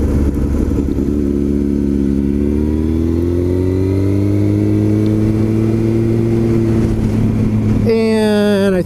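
A motorcycle accelerates hard up a freeway on-ramp, its loud engine note climbing steadily under rushing wind before a gear shift drops the pitch near the end.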